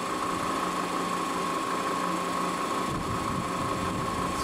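A milling machine spindle runs out of back gear at 1200 RPM, making a constant steady mechanical whine with a sustained tone, loud and close, unbroken for the whole stretch.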